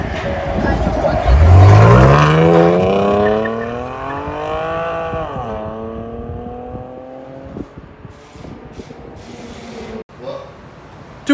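A 2011 Chevy Camaro 3.6L V6 with a Flowmaster FX exhaust and stock catalytic converters revs hard and close, climbing sharply to a loud peak, dipping, then settling as the engine winds down.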